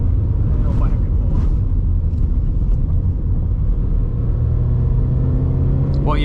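A 2023 Subaru BRZ Safari runs fast along a dirt road, its engine and tyre rumble loud and steady throughout, with muffled voices inside the cabin.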